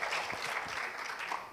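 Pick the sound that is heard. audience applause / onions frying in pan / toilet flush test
audience applause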